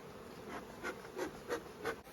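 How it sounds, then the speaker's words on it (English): Honeybees buzz in and around a box of bees while queens are caught and marked. The drone is close and steady, swelling in a few rhythmic surges as individual bees pass near. "There's a box full of bees in there."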